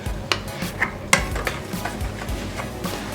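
A whisk stirs nutmeg into banana muffin batter with light, irregular taps and scrapes against the bowl. The sounds are close and fairly quiet, and nobody speaks.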